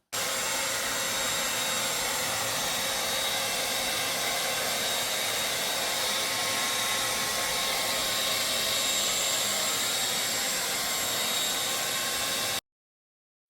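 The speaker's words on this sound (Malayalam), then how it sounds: "നമ്മുടെ സ്റ്റൈലറിൽ ഡ്രയർ ഫിക്സ് ചെയ്തിട്ട് മുടി ഇങ്ങനെ ഉണക്കിയെടുക്കണം" A hair dryer fitted onto a hair styler blows continuously while drying hair at home, a loud, steady, unbroken whooshing roar heard up close for about twelve seconds, with no talking.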